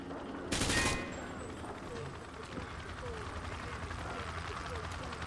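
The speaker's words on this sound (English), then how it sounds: "He sprayed bullets all over the damn place." Rifle fire from the hip in the video game Modern Warfare 2 comes as a short, loud automatic burst near the start, then gives way to quieter game ambience under a speaking voice.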